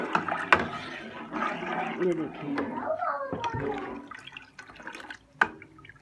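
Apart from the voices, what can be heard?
water being poured into pot for Punjabi karhi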